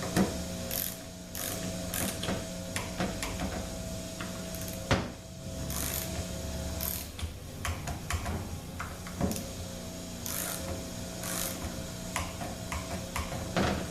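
Ratchet tightening the valve body bolts of a 722.9 automatic transmission, quick bursts of pawl clicking repeated at close range over a steady low mechanical hum, with no talk.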